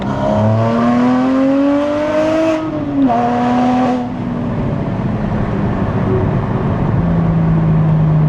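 A Porsche GT4 pulls hard in second gear in sport mode, its engine note climbing steadily, dipping briefly at a shift, then rising again, loud and close throughout with no talking.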